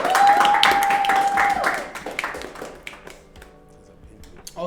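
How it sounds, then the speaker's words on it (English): Brief applause for podcast guest Tawa, a few people clapping close to the mics over a tonal hum, dying away after about two seconds into quieter room noise with a final tap. "Guys, can we give a round of applause for"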